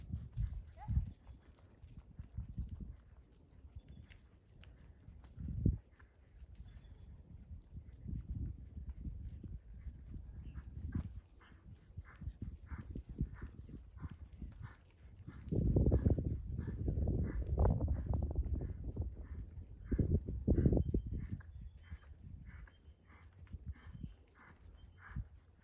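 A horse cantering in an arena, with steady rhythmic hoofbeats thudding close by for the whole stretch and growing louder midway, as a person speaks briefly now and then.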